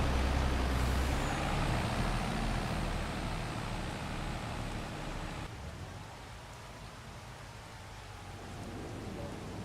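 Trucks in the Farming Simulator 25 video game: a continuous broad engine rumble and hiss with a loud low onset that gradually eases, with a faint whine fading in the background.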